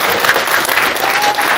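Wedding guests at a civil and religious marriage ceremony in Grand Lahou break into loud, dense applause, a steady sustained burst of many hands clapping close by with no talk over it.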